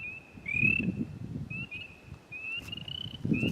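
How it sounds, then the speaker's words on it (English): Spring peeper frogs call repeatedly in Allegany State Park, short high peeps rising and sliding, one close by, others fainter, over a low rumbling background. "Hear the spring peepers?"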